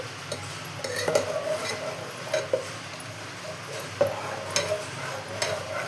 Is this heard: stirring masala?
yes